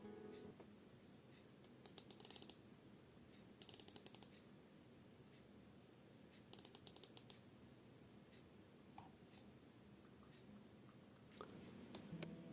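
Rotating bezel on an Ixdao Mini Turtle dive watch, turned in several short bursts of rapid, crisp ratcheting clicks separated by quiet pauses, very close and without voices.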